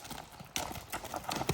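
Hooves of a tall stallion at a horse stable, a few quick clip-clop steps close by, sharp and irregular, with faint background noise and no talk.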